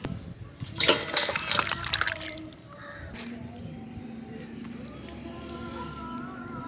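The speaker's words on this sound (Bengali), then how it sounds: "মাংসর তরকারি ঢেলে দিচ্ছি" Chicken curry is poured from a pan into fried rice, making a wet, splashing slosh for a couple of seconds before it settles into a low, steady background hum.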